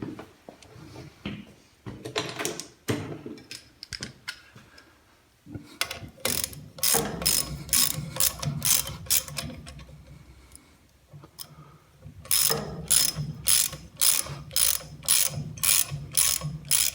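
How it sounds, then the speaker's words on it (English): A ratchet wrench clicks in repeated bursts of rapid pawl ticks while working a bolt held with blue threadlocker on a project vehicle, with brief pauses and handling noise between strokes. "let me get a ratchet"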